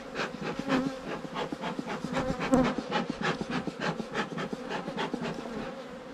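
Dense, steady hum of many honeybees swarming around an opened hive as smoke is puffed in, a continuous near drone with faint scraping under it and no talking.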